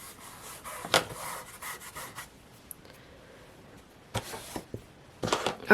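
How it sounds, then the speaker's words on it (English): Rubbing down areas of a journal cover by hand, soft scratchy strokes at close range, faint and intermittent, with a few louder scraping bursts between quieter stretches. "now just rub some of these areas down here"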